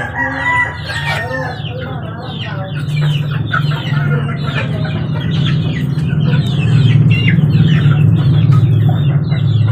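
A flock of young chicks clucking and peeping busily while eating feed mixed with dog food, a crowded stream of overlapping chirps that grows louder and denser toward the end.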